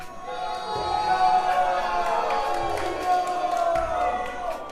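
A live crowd at a world championship event yells and cheers for favorite players, a sustained roar of many voices swelling and holding for several seconds.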